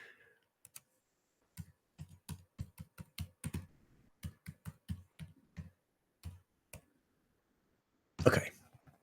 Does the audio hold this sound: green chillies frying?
no